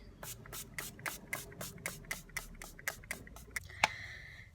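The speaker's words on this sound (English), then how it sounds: "I'm gonna go in with the Makeup Fixing Mist by Pixie. And I'm gonna apply that all over my face." Pixi Makeup Fixing Mist sprays onto a face in a quick run of about a dozen short, hissing pumps, evenly spaced and close, with no talking.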